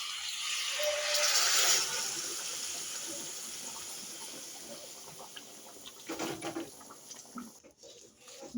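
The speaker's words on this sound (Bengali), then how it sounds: "এখন আমি গরম জলগুলো দিয়ে দিচ্ছি" Hot water poured into a spiced potato fish curry in a pan, a steady gushing pour with sizzling that rises early then fades into a softer bubbling simmer, close and fairly quiet, no talking.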